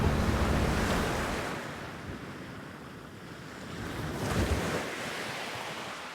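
Sea waves washing onto the beach at Turtle Island near Krabi, Thailand, a broad rushing surge that fades and then swells again, with heavy wind buffeting the microphone and no talking.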